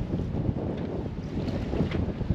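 A strong wind gust rushes over a sailboat at sea, a dense continuous roar of wind buffeting the microphone, loud and close, with no talking.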